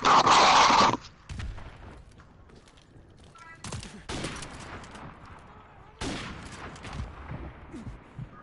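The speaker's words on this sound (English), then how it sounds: "I love how people use like heavy machine guns." Heavy machine gun fire in Modern Warfare Remastered arrives as dense, loud bursts of automatic shots at the start and again midway, separated by quieter game ambience.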